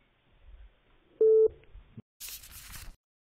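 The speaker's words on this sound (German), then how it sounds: "welche normale Firma legt einfach auf am Telefon" A telephone busy tone sounds after a scam call-center caller hangs up: a single clear steady beep, followed by a short burst of line noise, in an otherwise quiet line.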